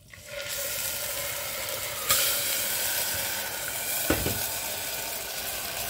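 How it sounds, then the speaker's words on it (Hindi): Stock hits caramelized sugar in a hot pot while Afghani pulao is cooked, setting off a loud, continuous sizzle and hiss with a couple of sharper bursts as more liquid goes in. "ये मैंने यखनी डाल दी।"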